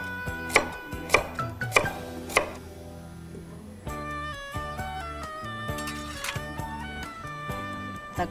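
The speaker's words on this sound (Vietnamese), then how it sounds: "Cà rốt thì chúng ta cũng là cắt khoảng dày khoảng 1 cm để chúng ta nấu canh." Carrots are cut into thick one-centimetre slices on a board, giving a string of crisp knife chops, close and fairly loud. Sharp single strokes come first, and quicker irregular cuts follow over a faint musical background.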